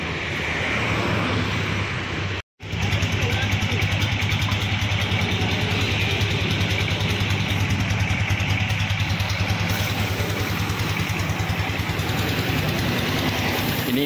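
Engine of a parcel-hauling truck in good running condition, a loud steady idle rumble close up that continues throughout, interrupted only by a momentary dropout, with no talk.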